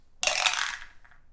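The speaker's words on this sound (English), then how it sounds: "So, rolling 2 dice." Two dice for the Aliens board game clatter across a table in one quick burst, a bright rattle that fades over about half a second with a small final tap, close by with no talk.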